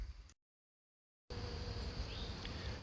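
A steady insect buzz from bees around a hive, fairly close and continuous, broken by a sudden second-long dropout to silence before the drone resumes at full level, with no talk.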